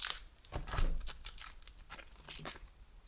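Adhesive tape being pulled and torn from a roll while opening trading card packs, a series of close crackling rips and crinkles.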